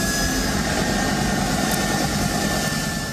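A US C-17 Globemaster takes off from the runway at Kabul airport. Its jet engines make a loud, steady roar with a high whine running through it, close and continuous, and no one speaks.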